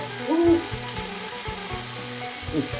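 Water spinach stir-fries in a hot pan with garlic and oyster sauce, giving a steady, close sizzle broken by a few scraping stirs of the spatula.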